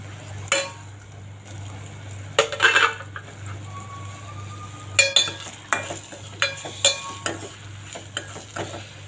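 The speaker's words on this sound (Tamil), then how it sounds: "இப்போ பூண்டும் வெங்காயமும் நல்லா வதங்கட்டும்" Crushed garlic and onion sautéing in a pan, a low sizzle under repeated sharp scrapes and clatters of a spatula against the pan, close and with no voices.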